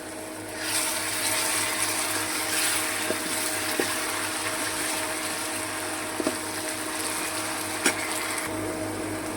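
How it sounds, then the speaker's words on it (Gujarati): Onions sizzle in a pan with ginger-garlic paste and dry spices, a steady, close frying hiss. A spoon stirs with occasional light clinks against the pot. "હવે છે ને ડુંગળી થઈ ગઈ છે તો એની અંદર નાખી દઈએ આદુ લસણની પેસ્ટ"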